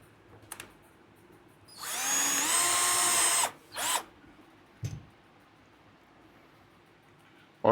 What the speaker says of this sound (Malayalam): ഇത് തക്കാലം ഒരു സ്ക്രൂ ഇട്ട് വെക്കാം